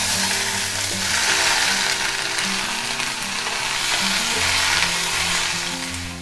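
Cumin seeds and chopped thuthuvalai leaves fry in a pan with a steady, loud sizzle that continues without a break, with faint scraping as they are stirred.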